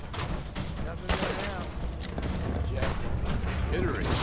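Dense covering gunfire crackles throughout, with rapid overlapping shots and bursts at mid distance, mixed with shouting voices and other battle noise.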